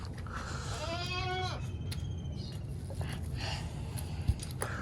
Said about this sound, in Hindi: ये बहुत तेज़ और शैतान बकरा है